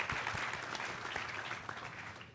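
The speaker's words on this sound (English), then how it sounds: "Maybe another round of applause if we could." A short stretch of audience applause after a higher-education leadership talk on equity, with steady dense clapping at moderate volume and no speech.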